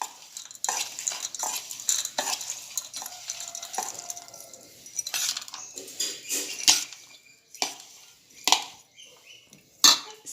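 Sabudana khichdi with crushed peanuts being stirred in a pan: a spoon scrapes and clinks against the metal in irregular strokes, close and fairly quiet, with a soft sizzle underneath.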